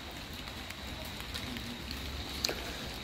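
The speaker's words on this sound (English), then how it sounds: "as you can see, it's raining." Steady rain falls outdoors in cold, wet weather, a continuous soft hiss of drops with a few sharper close taps and no one talking.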